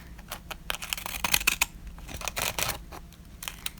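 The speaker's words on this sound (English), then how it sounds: "I took my pinking shears and I just cut across." Pinking shears cutting across a bag, a run of crisp snipping and crunching strokes in irregular bursts, close and fairly quiet, no speech.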